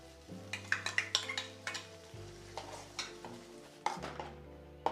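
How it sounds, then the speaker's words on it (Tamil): Tomato-based kara chutney cooking in oil, a quiet background sizzle with a series of sharp spoon clinks and scrapes against the pan as it is stirred, a low hum running under most of it. "இந்த மாதிரி வதக்கிட்டே இருந்தீங்கன்னா ஒரு 2 நிமிஷம் வதக்குனிங்கன்னா போதுங்க."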